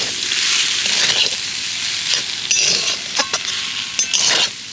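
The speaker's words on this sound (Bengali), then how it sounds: "এবার আমি সব কিছু একসাথে ভালো করে মিশিয়ে পুরটা তৈরি করে" Soaked flattened rice being stirred into a sizzling potato filling in a pan, with steady frying hiss and scattered scraping and clinking of the spoon, close and fairly loud.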